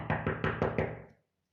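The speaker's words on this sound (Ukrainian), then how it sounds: "І раптом почув стук у двері." Five quick knocks on a wooden door land in a fast, even rhythm, close and fairly loud, then fade into silence with no voices.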